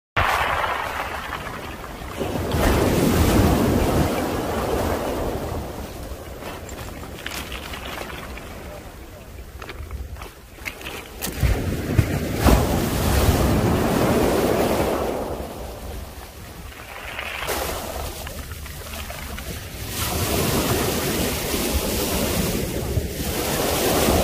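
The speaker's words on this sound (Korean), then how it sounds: "좀 파도가 그치네요." On a Pohang beach on New Year's morning, ocean surf rolls in and breaks in long repeated swells, roaring, then ebbing, with gusty wind buffeting the microphone throughout.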